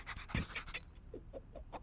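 A cartoon dog pants close up, with quick breathy huffs in an uneven rhythm and a short vocal whimper near the start.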